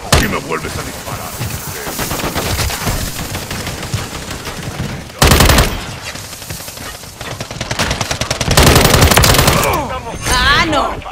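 Rapid automatic gunfire and explosions from Call of Duty MW3 gameplay come in loud, dense bursts, with heavier bangs at intervals and a player shouting over the shooting.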